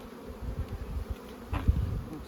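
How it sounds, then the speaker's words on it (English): Honey bees buzzing densely over a brood frame during hive inspection, a continuous low droning hum with small swells, close and moderately loud, no talking. "Lots of bees there."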